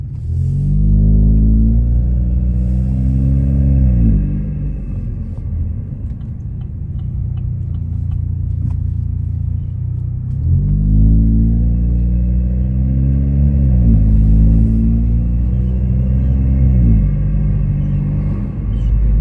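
Stock Chevy Cruze engine during ordinary daily driving with the window down: a steady, loud, low drone with rising pitch sweeps as it accelerates through gears, settling to a cruise in the middle before climbing again, with no voices.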